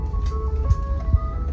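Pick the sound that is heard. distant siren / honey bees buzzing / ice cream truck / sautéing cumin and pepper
ice cream truck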